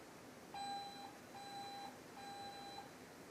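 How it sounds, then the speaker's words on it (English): A 10-second warning buzzer sounds at a canoe-kayak freestyle world cup competition in Plattling, Germany: three evenly spaced electronic beeps, each about half a second long, heard at a moderate distance over background crowd and water noise. "that sound is a 10-second buzzer, telling him he's got 10 seconds left to throw any last tricks"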